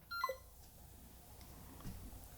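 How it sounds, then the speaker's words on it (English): A Zhiyun Cinepeer CQ5 smartphone gimbal's voice control gives a short, clear electronic beep made of quick descending tones, followed by quiet room background with no talk. "Hey Cami, there's a beep and now I can continue"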